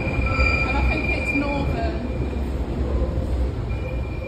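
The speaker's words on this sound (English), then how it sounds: "Oh look, there's a train." A train, apparently on an underground line, rolls past with a steady rumble and thin high-pitched wheel squeal running throughout, with voices murmuring faintly in the background.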